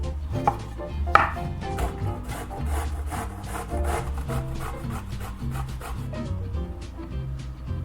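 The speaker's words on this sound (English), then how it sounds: "And now we're gonna grab our 1/2 pound of zucchini squash. We're gonna grate it, and then we're gonna squeeze out the excess moisture as well." Zucchini squash rubbed against a grater, a steady run of close rasping scrapes in quick rhythm, fairly loud with no talking.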